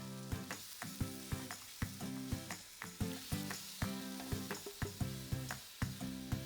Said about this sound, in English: And then it is time to add all the dry spices. Give it a mix.